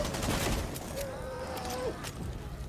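Rapid gunfire from Rainbow Six Siege, with Tachanka's mounted machine gun firing in the match, a dense continuous burst of shots heard alone and fairly loud through the clip.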